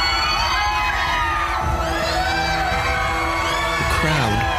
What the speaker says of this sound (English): The crowd, screaming in unison, rushes en masse out of the bar